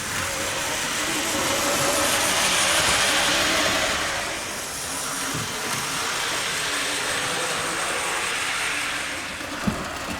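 A small Hornby Harry Potter model train rumbles and whirs steadily along its track at close range, with faint clicking and a brief sharp tick near the end.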